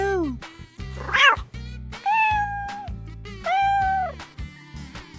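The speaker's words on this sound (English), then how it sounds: "A cat says meow, meow." A cat meows three times in drawn-out, rising and falling calls over an upbeat children's song with steady beats.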